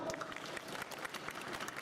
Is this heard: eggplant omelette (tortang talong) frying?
no